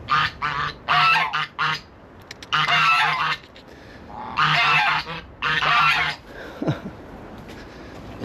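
Several geese or ducks honk in loud bursts of repeated calls beside a path, the bursts separated by short pauses, with a lower squawk near the end; no talking.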